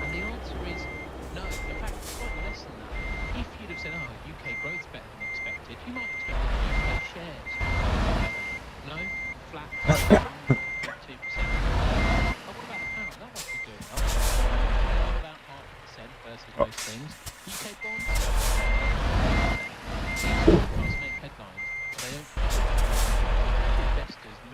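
Truck reversing beeps from Euro Truck Simulator 2 with ProMods, a steady repeating electronic tone that runs through most of the clip in bursts, with engine rumble underneath and someone talking over it at intervals.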